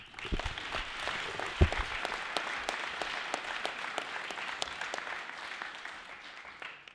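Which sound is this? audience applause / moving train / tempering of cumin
audience applause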